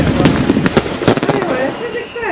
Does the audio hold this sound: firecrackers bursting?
yes